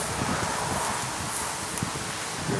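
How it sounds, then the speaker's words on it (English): A breeze blows across an outdoor microphone as a soft, steady rush with leafy rustling, fairly quiet and continuous, with no voices. "You're getting a little gust."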